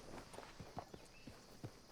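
Horse hooves clip-clopping at a steady walking pace in the video game The Tackroom, a run of distinct, fairly faint thuds with no talk over them.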